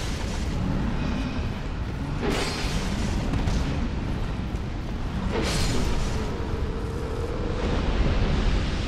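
An enemy in Dark Souls II blows up amid heavy game rumble. Loud, continuous booming fills the scene, with two sharper bursts rising out of the roar partway through.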